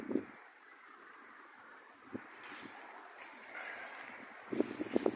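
Broad wind noise rushes across the microphone outdoors in a strawberry patch, swelling and buffeting, with faint voice-like murmurs near the start and end.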